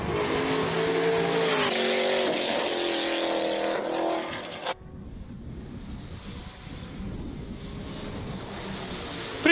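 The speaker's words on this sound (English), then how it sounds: "Franco Di Matteo launches the Ford Mustang." Ford Mustang race car launching up a hill climb at the Speed Classic King of the Mountain event in Cape Town, a loud engine roar with rising revs and tyre squeal, then fading into the distance.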